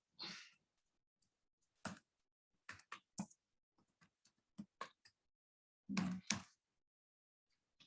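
Computer keyboard typing sounds in short, sparse bursts of key clicks, close and quiet, separated by silent pauses.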